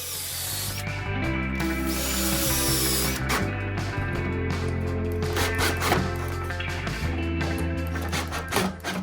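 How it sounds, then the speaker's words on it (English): A power drill pre-drills holes and drives 1-inch screws into wooden handles on a picket harvest crate, with a loud whirring motor that rises and drops in pitch across repeated bursts. "I'll pre-drill the holes and then use 1-inch screws to fasten them onto the inside of the"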